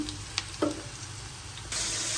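Ginger and garlic spices fry in extra oil for a taki fish dish, a soft, low sizzle with a few stirring clinks, then a louder hiss of frying near the end.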